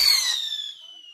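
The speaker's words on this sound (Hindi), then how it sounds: "इन लोग के पटाखे खत्म नहीं हो रहे हैं" A Diwali firecracker bursts with a sharp crack in a village courtyard, then a high whistling ring fades away over about a second.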